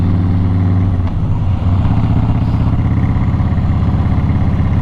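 A 2008 Harley-Davidson Crossbones motorcycle on the road, its engine a steady, loud, low rumble that runs close and continuous throughout with a slight dip around the one-second mark, with no voices.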